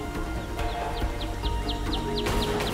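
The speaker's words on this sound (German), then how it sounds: "Vogel abschießen." Short repeated chirps from a bird in the Tomb Raider video game, a regular series of brief high calls over a steady ambient game background with low rumbling.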